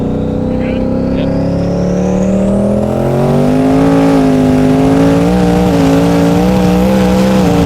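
A 2000 hp twin-turbo Coyote Mustang accelerates hard, its engine note climbing steadily while a high turbo whistle rises above it, heard loud from close by inside the car.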